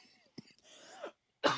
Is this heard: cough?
yes